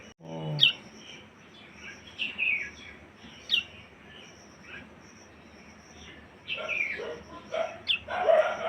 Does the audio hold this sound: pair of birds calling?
yes